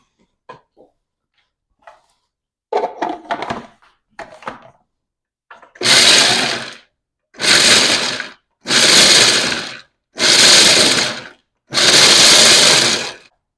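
Food processor grinding raw, unroasted nuts in five loud, roughly one-second whirring bursts, preceded by scattered clattering and rattling as nuts are handled.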